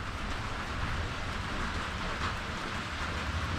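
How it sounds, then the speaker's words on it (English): Steady, dense rain pouring down during an afternoon thunderstorm, a constant even hiss with no distinct thunder claps, heard alone. "We've been having some thunderstorms this afternoon,"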